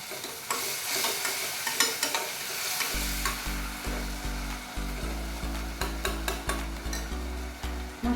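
Yogurt and ingredients for mushroom biryani sizzle steadily in a hot pan while a spoon stirs and scrapes in a regular rhythm, close by and without talk.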